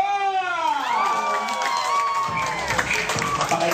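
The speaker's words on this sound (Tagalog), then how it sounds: "Palakpak!" Guests at a first birthday party break into clapping and cheering partway through, after an opening stretch of a sliding voice, and the applause carries on to the end.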